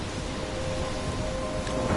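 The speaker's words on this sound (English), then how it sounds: "I'm trapped in a storm?" Steady heavy rain with a low rumbling thunderstorm fills a dark scene in the video game Life is Strange, a constant dense wash with no talking.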